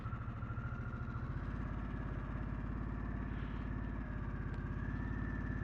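A Harley-Davidson Sportster S, a 2023 custom, idles and creeps through a parking lot in rain mode. It gives a close, steady, low-pitched lumpy throb with a brief faint rise in revs midway, and nobody speaks.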